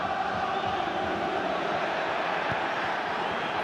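Football crowd at a Tottenham Hotspur v Aston Villa match, a steady roar of massed voices and cheering that fills the stadium, continuous and dense with no single voice standing out.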